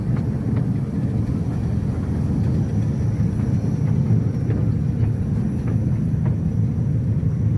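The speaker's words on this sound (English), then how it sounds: "We then saw the red train again on the turntable." A red train rumbles slowly on a railway turntable, a low, steady mechanical drone with faint intermittent clicks on top, heard from nearby without any talking.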